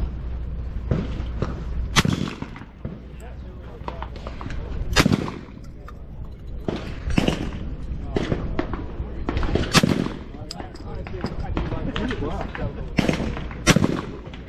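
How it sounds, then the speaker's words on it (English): A Browning A5 20 gauge shotgun fires at clay targets outdoors, giving sharp, loud, close reports spaced a few seconds apart, with occasional speech between the shots. "Same target. Good nice shot. Coming the other way."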